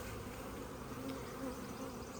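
A steady, dense buzzing of many honey bees, continuous and fairly soft, like standing right beside a busy hive.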